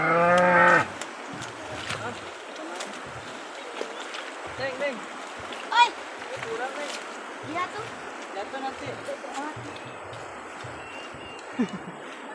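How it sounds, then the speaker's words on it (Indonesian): Splashing and trickling water as cattle are bathed in a river outdoors, with a cow mooing loudly at the start and voices chatting intermittently throughout. "Perjuangan memandikan sapi di kali."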